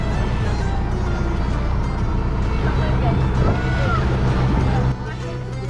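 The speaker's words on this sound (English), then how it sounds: "Johnny Dunn comes steaming on past us, straight back to the harbour to pick up his next stuff for his next trip." An RNLI boat engine drones steadily close by in Newquay Harbour, UK, with voices murmuring underneath, then the rumble drops away near the end as it passes.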